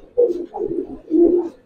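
Giribaz pigeons of the Palla line coo in deep, throaty, rolling calls, three close bursts over under two seconds, near and fairly loud with no talking.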